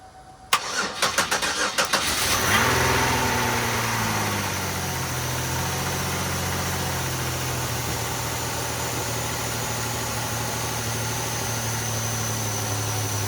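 A car engine with a JB Weld–repaired crank pulley, not run in years, cranks with quick rhythmic turnover, catches loudly, then settles into a steady, even idle that runs on alone and close.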